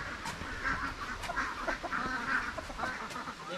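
Domestic ducks quack steadily near their roofed hut on a farm, a dense overlapping chorus of nasal calls close by with no talk.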